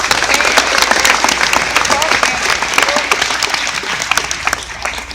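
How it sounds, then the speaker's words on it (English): Loud, continuous applause from a school audience fills the room, dense clapping sustained throughout with faint crowd murmur beneath. "Give yourselves a big hand clap."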